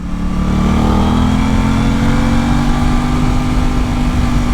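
Aprilia RS 660 sport motorcycle ridden hard on twisty canyon roads, its engine droning loud and close with a slowly rising pitch under steady wind roar, no talking.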